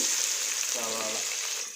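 Onions sizzle in a hot pan with a steady, close frying hiss, while a brief voice sounds faintly in the middle of the short stretch.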